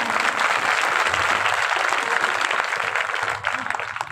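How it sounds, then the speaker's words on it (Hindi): A crowd at a Bhagavat Katha religious gathering in Datia, Madhya Pradesh claps vigorously, a loud, dense burst of applause that stays steady before thinning slightly near the end, with faint voices in the mix. "तो एक बार अपने भारत देश के विकास के लिए जोरदार तालियां बजाएं।"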